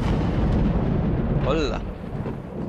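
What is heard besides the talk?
thunder in the video game Layers of Fear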